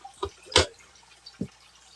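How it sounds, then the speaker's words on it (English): Water dripping from an aquaponics setup, with a few separate close drips falling at irregular moments against a quiet background. "to catch everything dripping underneath."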